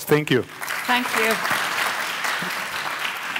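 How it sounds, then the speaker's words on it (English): Conference audience applause at a tech show, a steady wash of clapping beneath a voice speaking briefly at the start. "Big round of applause."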